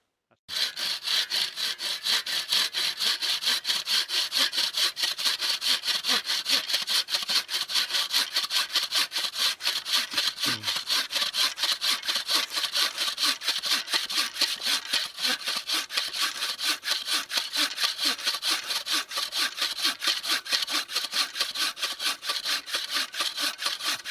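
A hand saw cuts through hard wood at an outdoor woodland camp, its rapid, even back-and-forth strokes rasping loud and close without pause for over twenty seconds.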